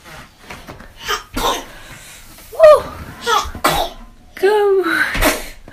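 A baby sneezes and coughs several times in quick, close bursts, with small squeaky cries and breaths between the sharp sneezes.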